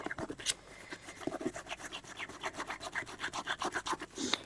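Putty rubber scrubbed back and forth on a black acrylic painted surface, a soft, close, steady rubbing rasp in quick repeated strokes with no talking.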